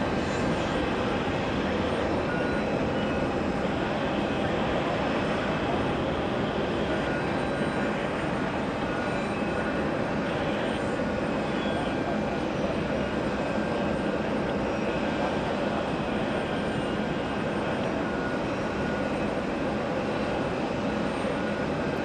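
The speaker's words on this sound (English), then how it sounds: "American Airlines a 777-200 from Milan, landing on 4 right" An American Airlines Boeing 777-200ER from Milan landing on runway 4 right: a steady, fairly faint jet roar that holds evenly throughout with no talk.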